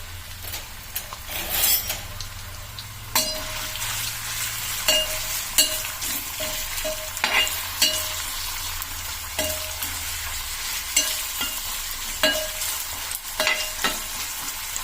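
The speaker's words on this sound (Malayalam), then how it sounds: "എണ്ണ ചൂടായി വരുമ്പോൾ നമ്മൾ ഈ സ്ലൈസ് ആക്കി വെച്ചിരിക്കുന്ന ഇഞ്ചി അതിനകത്ത് എടുത്തിട്ട് വറുത്ത് കോരണം കേട്ടോ" Sliced ginger frying in hot oil for a Kerala sadya ginger curry gives a steady sizzle, broken by repeated scraping stirs and light metal clinks of a utensil against the pan.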